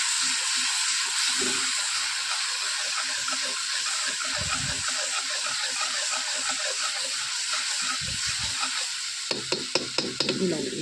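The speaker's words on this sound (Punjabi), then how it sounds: "ਮਸਾਲਾ ਚੁੱਲ੍ਹੇ ਤੇ ਤਾਂ ਬਾਹਲੀ ਛੇਤੀ ਭੁੱਜਦਾ ਜੀ" Masala spices roast fast in a pan on a clay chulha over a very high flame. A steady, loud sizzle and hiss carries stirring scrapes throughout, then a few sharp clatters near the end, with no talking.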